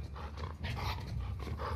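Dogs growl in The Last of Us Part II, a fairly quiet, rough snarling that comes in uneven bursts with brief pauses between them.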